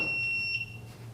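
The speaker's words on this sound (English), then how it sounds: "Your buzzer works." A steady electronic quiz buzzer tone sounds for about half a second during a movie trivia game, then cuts off, over a low background hum.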